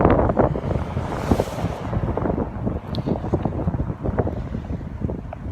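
Gusty wind buffets the microphone in uneven low rumbling blasts throughout, loud and close.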